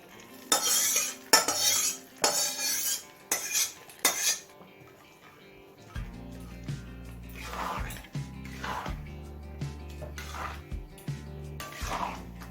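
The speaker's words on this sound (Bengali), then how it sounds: "এবার খিচুড়ির মধ্যে এই ফোড়নটা দিয়ে দেব" Fried cumin and dry chilli tempering tipped into Gobindobhog rice khichuri: loud metallic clinks and scrapes of a spoon against pots, then a sustained sizzle as the tempering hits, close with no talk.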